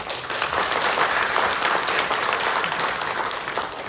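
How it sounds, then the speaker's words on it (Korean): A packed crowd at a Jeju Provincial Council session during the Jeju Forum breaks into loud, sustained applause, a dense, even roar of clapping that holds steady for several seconds. "큰 박수로 열도록 하겠습니다"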